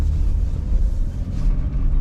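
An old Jeep with four-wheel drive rumbles steadily while driving, a continuous loud low engine and road drone with no speech.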